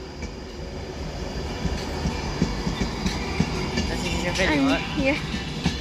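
An Avanti West Coast Class 390 train at Crewe station gives a steady broad rumble with faint rail clatter, a constant wash of noise throughout; a brief spoken word and a short squealing tone rise near the end.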